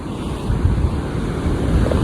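Ocean waves wash against the shore at the Sutro Baths ruins beside an outlet to the sea, a steady close roar of surf mixed with gusty wind buffeting the microphone, with no voices.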